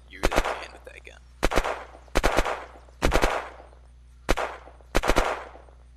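Gunfire in the game Kilmore: six loud, close bursts of two or three rapid shots each, separated by short pauses over a low steady hum.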